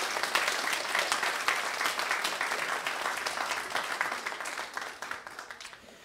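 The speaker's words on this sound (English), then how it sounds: "now is the appropriate time to clap and give thanks" Congregation in a Presbyterian church service breaks into steady, dense applause, many hands clapping together at moderate volume for several seconds before gradually thinning and fading out.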